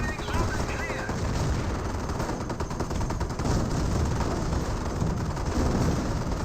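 Dense machine-gun fire and heavier cannon shots in a Company of Heroes battle pitting Hetzer tank destroyers against Staghound and Greyhound armored cars, a continuous loud crackling barrage throughout.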